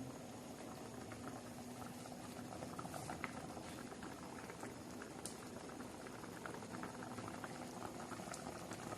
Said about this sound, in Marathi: तर भाजी अशी छान अशी उकळत आहे